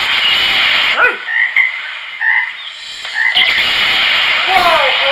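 A frog croaks in a run of close, loud calls, some rising and warbling, spread across several seconds with short gaps between them.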